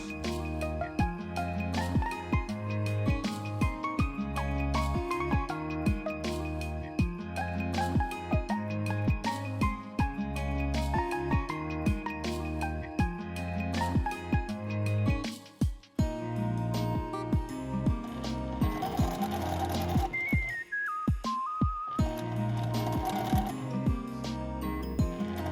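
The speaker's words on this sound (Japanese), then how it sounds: "もう1枚も同じようにキルティングをして縫いつなげます。" A sewing machine joins quilted fabric pieces in steady, close mechanical bursts of rhythmic stitching, with a brief stop partway through before it resumes.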